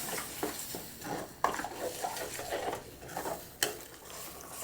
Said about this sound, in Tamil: சேர்த்துட்டு நல்லா கலந்து விடுங்க.